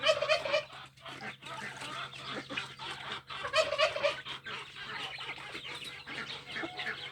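Turkeys, chickens and chicks cluck and chatter steadily, with gobbles and peeps overlapping at close range while the birds scratch and feed on wheat and mash in a Turkish poultry yard.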